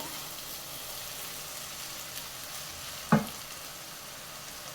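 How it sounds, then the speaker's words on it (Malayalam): Cooked rice is stirred and fried in butter and garlic in a pan over a medium-high flame for paneer fried rice. A steady sizzle runs throughout, broken by one brief scraping knock. "ഇതിന് നല്ലതുപോലെ ഇളക്കി നമുക്ക് മിക്സ് ചെയ്യാം"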